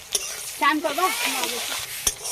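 Spices and turmeric frying in a pan while being stirred, a steady close sizzle throughout with a voice speaking over it and brief clacks of a utensil.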